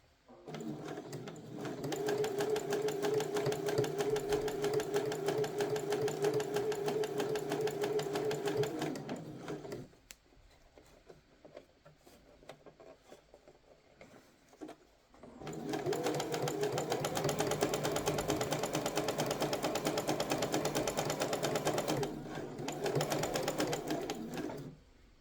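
Sewing machine stitching bias binding onto the placket slit of a shirt, running in two long steady bursts separated by a short quiet pause, loud and close with no talk.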